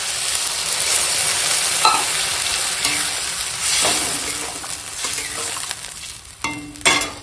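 Vegetables sizzle steadily in a pan with ginger-cumin paste as water is poured in, with a continuous hiss, stirring scrapes and a few sharper bursts of spatter toward the end. No one speaks.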